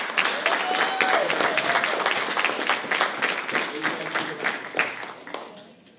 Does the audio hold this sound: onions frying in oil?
no